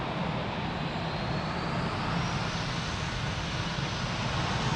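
An airliner taking off from runway 02 at Lisbon Airport, a steady broadband engine roar holding loud and constant throughout with no voices over it.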